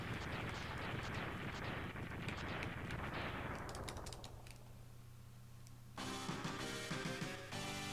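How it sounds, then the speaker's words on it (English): Explosions in the video game Mega Man X3: a loud, crackling barrage of rapid blasts that thins out over several seconds, followed by buzzing electronic game tones. "now we have to sit there and wait for the explosion to happen again"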